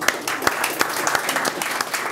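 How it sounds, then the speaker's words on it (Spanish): Brief burst of audience applause at a panel debate on inequality, steady clapping from a crowd with a few sharper individual claps standing out, heard alone without talk. "quiero darle un gran aplauso a él"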